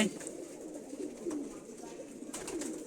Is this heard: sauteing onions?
no